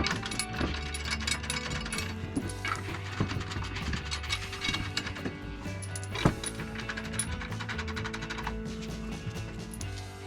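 Ratchet wrench clicking in rapid bursts while a bolt is tightened on a Hayman Reese X Bar tow bar plate under a 2018 Ford Ranger PXII chassis rail, with occasional metallic knocks, close and steady throughout.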